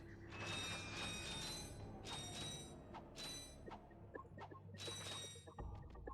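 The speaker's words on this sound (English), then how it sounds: "now put our big old wrench on there, turn this bolt around, and open this place up" Ratchet & Clank video game: a big wrench turns a bolt to open an area, giving creaking, grinding mechanical turns with metallic clanks and ratcheting clicks in several loud, close bursts.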